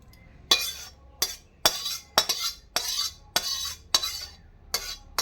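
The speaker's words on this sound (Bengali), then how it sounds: "আমি একটা ছাঁকনির সাহায্যে ছাঁকিয়ে নিচ্ছি।" Soaked sago being strained through a kitchen sieve, giving a series of sharp metallic clinks and scraping taps repeated at a steady rhythm, close and fairly loud, with no talking.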